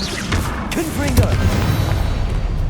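A Confringo blasting spell striking in the Hogwarts Legacy video game, a continuous dense rumble of explosive impacts and crackling debris throughout, loud and close, with a faint voice surfacing briefly in the middle.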